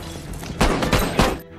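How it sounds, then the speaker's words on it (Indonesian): Gunfire exchanged in a film scene: dense, heavy shots crack over a noisy background, with two loud bursts close together in a brief, chaotic stretch. "Keduanya saling balas tembakan."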